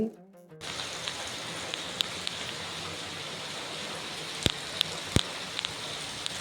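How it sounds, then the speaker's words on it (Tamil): Heavy rain with wind during a stormy early morning, a dense continuous hiss of falling water with a few sharper drips or knocks standing out, steady and close. "இன்னைக்கு ஃபஜர் டைம்லேருந்தே சரி மழை. சஹர் அப்போலாமே காற்று நல்லா அடிச்சுக்கிட்டு பயங்கரமாக தான் இருந்துச்சு."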